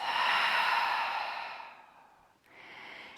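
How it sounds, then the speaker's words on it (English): A deep, slow breath during a Pilates core flow, heard close and alone as a long airy exhale that fades out, a brief pause, then the start of a softer inhale. "Take a nice inhale breath and an exhale breath."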